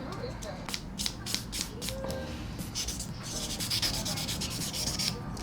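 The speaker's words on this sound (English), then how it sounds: "now I'm going to buff my nails with a buffer, 100 and 180 grit on each side" A 100/180 grit nail buffer scrubs back and forth across fingernails in a close, continuous rasping rub with quick repeated strokes, a voice speaking faintly alongside.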